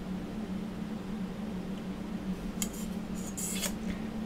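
Scissors snipping a paper hat brim in half, a few short crisp cuts near the end after quiet steady room hum, close and fairly soft with no talk.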